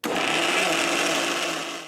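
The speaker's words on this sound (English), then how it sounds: "Now let's blend it up into a smooth puree." A kitchen blender purees butter chicken sauce into a smooth mix, with a loud continuous whirring motor roar that holds steady and then starts to fade at the end.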